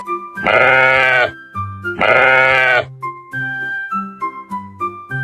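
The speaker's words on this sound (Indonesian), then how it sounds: "Kambing" Two loud, drawn-out bleats from a goat stand out close by, and shorter, softer calls and grunts fill the gaps between them.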